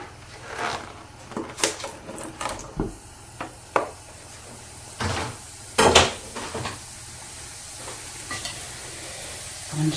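Ground beef mince fries in a pan, a constant sizzle punctuated by repeated scraping and knocking of a utensil against the pan as the meat is stirred and broken up.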